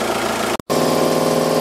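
The 2-litre engine of a 2006 Audi A3 Sportback runs loudly and evenly close by with a steady rumbling drone, broken by a brief cut near the start, and no one speaks.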